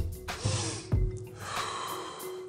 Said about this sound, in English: The technique is a physiological sigh.